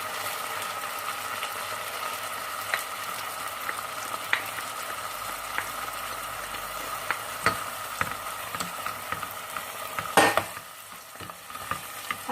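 Mushrooms and spices frying in a pan as filling for a tuna and minced meat quiche, a steady close sizzle punctuated by scattered clicks and scrapes of stirring, with one louder clatter near the end.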